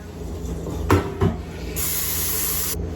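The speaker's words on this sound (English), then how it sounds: "Dump out this water." Water dumped out of a pan in a kitchen during gluten-free sandwich bread making: two quick knocks of the pan, then a steady hissing splash that runs about a second before stopping abruptly.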